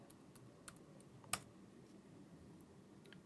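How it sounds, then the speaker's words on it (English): Light typing on a computer keyboard in a quiet room: a few faint, sparse key clicks with one sharper tap near the middle, no talking. "It has now asked me for my claim ID number, so I'll just type that in."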